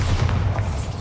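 A Bombarda explosion spell from the video game Hogwarts Legacy rumbles as a deep, continuous boom, dense low-end roar filling the whole second at steady loudness.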